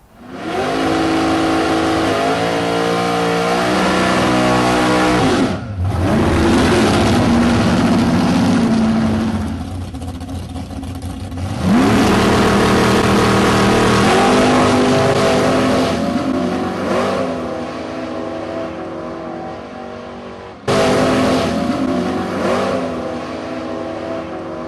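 A no-prep drag racing car revs hard and loud on the track, its engine climbing and dropping through several surges with short breaks, as it lifts into a wheelie.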